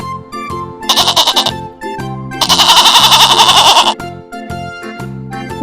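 A goat bleats in two loud, rapid quavering bursts, the second longer, set over light children's music.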